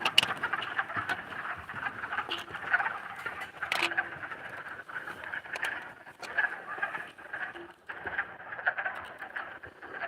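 Tree frogs calling for mating at a wildlife sanctuary in Northampton, Massachusetts, form a dense, continuous chorus of many overlapping chirps and trills, fairly faint and distant, with occasional louder individual calls standing out.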